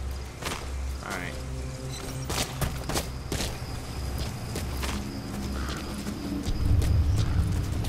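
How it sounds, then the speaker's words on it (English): Footsteps of a character moving through the open world of the stealth video game Metal Gear Solid V: The Phantom Pain, a steady stream of clopping, hoof-like steps set in a dense game soundscape with a heavier rumble near the end. "Keep hearing the sounds of footsteps."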